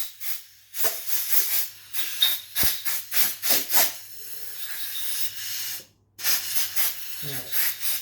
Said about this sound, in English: Let's get some compressed air, put my glasses on, and I just want to blow any of that stuff away.